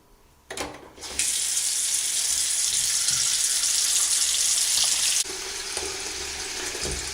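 Water runs loudly from a tap into a pot or bowl to fill it with cold water for soaking a Neck Buddy cooling scarf, a steady rushing hiss with clunks before and after.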